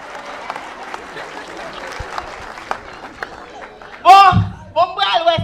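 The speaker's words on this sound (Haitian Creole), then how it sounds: "Applaudissez cousin pour moi," Crowd applause for a little cousin patters along at moderate level, then a loud voice breaks in over the clapping near the end.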